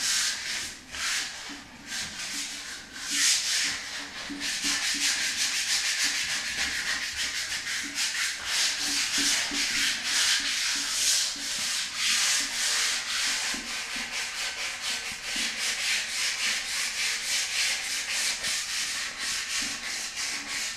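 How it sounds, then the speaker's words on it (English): Sandpaper rubbed by hand across a mirror frame in steady back-and-forth strokes, a continuous close, loud, rasping scrub that keeps up the whole time with no talking. "So if you're gonna hand sand, always go this direction."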